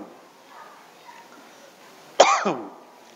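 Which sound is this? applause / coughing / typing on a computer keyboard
coughing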